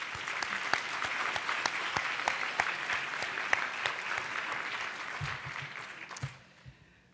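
Sustained applause from a convention audience, dense and steady clapping filling the room before tapering off at the end, with a few low thumps near the close.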